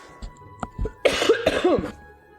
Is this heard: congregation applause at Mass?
no